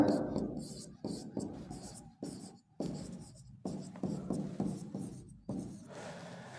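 Hand-writing of a physics derivation: close, crisp scratching strokes in quick separate bursts with short pauses between them, nearly free of speech.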